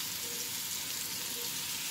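Onions frying in a pan, a steady, even sizzle that stays at moderate level with no interruptions or voices.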